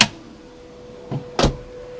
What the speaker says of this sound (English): And then you have a couple big storage drawers down in here.